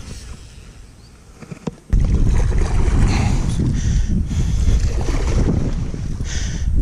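Strong wind on open water in Texas, roaring and buffeting the microphone in a steady, loud rumble that kicks in abruptly after a quieter start.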